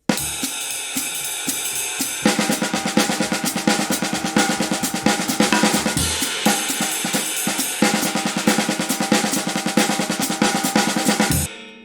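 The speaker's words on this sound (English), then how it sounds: "I like to play it on my snare drum. It sounds like this." Busy drum playing with rapid, crisp snare strokes in a steady rhythmic pattern, loud and close, with cymbals ringing over it and brief pauses between phrases.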